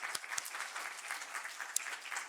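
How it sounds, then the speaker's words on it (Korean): A church congregation at a Sunday worship service claps in thanks, a soft, fairly distant and even patter of applause with a few sharper claps standing out. "우리 감사의 박수 하겠습니다"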